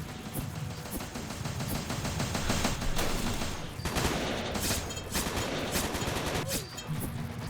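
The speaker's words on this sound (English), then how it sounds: "makes the 50 cal machine gun a very effective weapon" A video game .50 cal machine gun fires in long, rapid bursts, dense and continuous with a few sharper cracks, sustained throughout at moderate loudness.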